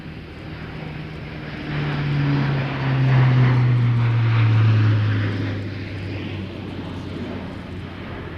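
A Royal Air Force Atlas transport aircraft drones past on propeller engines, a steady low hum that swells to a loud peak mid-clip and then eases as it recedes.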